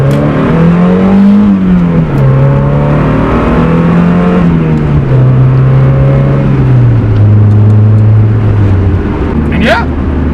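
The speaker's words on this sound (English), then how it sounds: "if you have a 100 horsepower Miata like me, and I mean, I only needed to rev that up to 3K to start drifting" The engine of a 100-horsepower Mazda Miata revs loud and close, its droning pitch rising and stepping down across the run while the car drifts, with a brief high tire squeal near the end and a voice talking over it.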